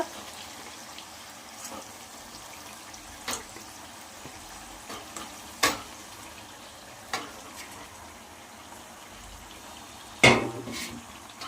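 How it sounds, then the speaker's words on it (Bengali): Katla fish pieces coated in spices fry gently in a pan for doi katla, a soft steady sizzle broken by occasional sharp spatula clinks and scrapes against the pan, with no one speaking. "এবার আলতো করে কষিয়ে নিতে হবে, যেন মাছের মধ্যে মশলাটা চলে যায়"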